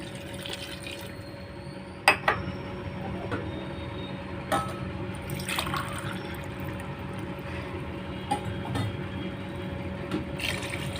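Water is poured into rice in a cooking pot while egg biryani is being made. It is a soft, steady, moderately quiet liquid rush with a few sharp clicks and knocks, and no talking.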